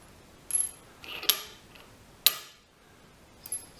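Small steel ball bearings being handled and dropped, giving a few light, bright metallic clicks and ticks spread over several seconds, close by and fairly faint.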